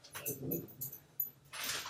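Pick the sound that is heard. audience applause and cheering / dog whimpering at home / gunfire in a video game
dog whimpering at home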